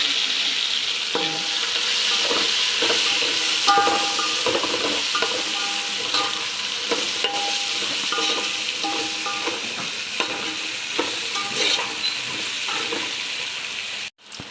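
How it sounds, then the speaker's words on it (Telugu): Tomato frying in ginger garlic paste for paneer biryani, a steady close sizzle with repeated spoon stirring and scraping against the pan, continuous throughout with no talk. "ఇలా అల్లం వెల్లుల్లి పేస్ట్ ఫ్రై అయ్యాక దీంట్లో ఒక టమాటో వేసుకోవాలండి."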